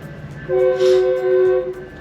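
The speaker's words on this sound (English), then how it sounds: "There's a train." A train passes close by, its horn blaring in two steady tones for just over a second amid rumbling rail noise, loud and unaccompanied by talk.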